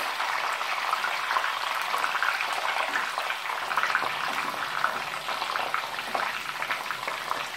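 Continuous close sizzling and popping of peppers frying in oil, steady and fairly loud throughout with no voices.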